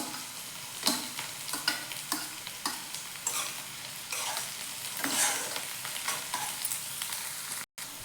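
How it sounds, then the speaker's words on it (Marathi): Onion, garlic and capsicum stir-fried over a high gas flame for beet manchurian: a loud, constant sizzle broken by repeated scraping and clattering spatula strokes in an uneven rhythm, close up, with no talking. "कांदा आणि आपली मिरची व्यवस्थित थोडी भाजत आले बघा"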